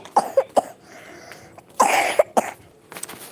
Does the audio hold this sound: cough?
yes